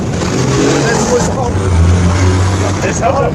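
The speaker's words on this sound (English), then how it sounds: "You guys need to learn to talk when there isn't traffic going past so I can freaking well hear you" Road traffic passes nearby outdoors, a broad engine and tyre rumble swelling as vehicles go by, loud and continuous beneath someone talking.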